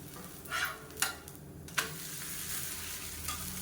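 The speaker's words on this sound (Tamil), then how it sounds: "இப்போ ஒரு பக்கம் நல்லா வெந்துருச்சு திருப்பி போட்டுக்கணும்" A millet and lentil pancake fries in a pan for a healthy breakfast, giving a steady close sizzle. A few sharp clicks from the pan or spatula stand out early on, and no one speaks.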